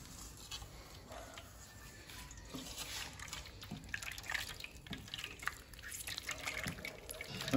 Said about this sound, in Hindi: मैं और पानी इसमें डाल रहा हूँ और अब इनको छान लेता हूँ।